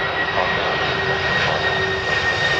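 A jet airliner's engines roar steadily and loudly nearby at London Heathrow Airport, a continuous whine layered over broadband rushing noise.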